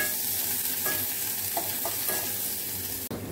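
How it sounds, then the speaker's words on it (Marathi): Cumin, green chilli and chopped onion sautéing in hot oil, a continuous close sizzle with occasional soft stirring scrapes of a spatula through the pan. "नंतर आपल्याला बारीक चिरलेला कांदा घालायचा आहे आणि तेलामध्ये असं परतून घ्यायचं आहे"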